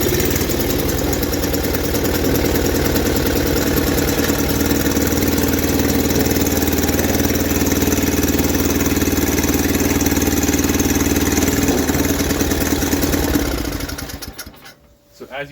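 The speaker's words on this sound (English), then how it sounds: "So when it's running, you pull down the drive lever and you pull back on the snowblower" Snowblower engine running steadily at a constant pitch with the drive lever engaged, loud and close, humming without a break before cutting out near the end.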